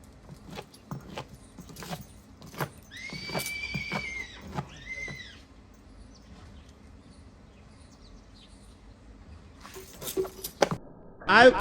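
Mares neighing at a farm where horses are being bathed, several loud whinnies in quick succession, followed by rustling, jingling tack and a voice nearby.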